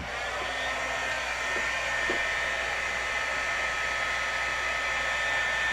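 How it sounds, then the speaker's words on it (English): A crafting heat tool blows a steady, loud whooshing hum to dry pigment ink after stenciling, running continuously without pause. "So I'm going to pull out my heat tool."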